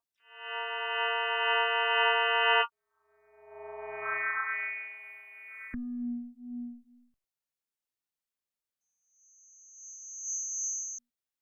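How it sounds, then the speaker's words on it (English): A synthesizer patch for a trailer riser, with an LFO driving the amplitude for a tremolo effect and light distortion, plays as several sustained buzzing tones in separate phrases, then a quiet pulsing low tone and a thin high whine. "I'm also using an LFO to control the amp, which is going to give it a sort of tremolo effect"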